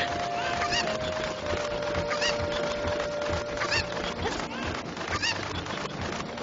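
A chicken in the Zelda Ocarina of Time video game clucks in repeated short calls over steady background game music and noise, moderately loud and without talk.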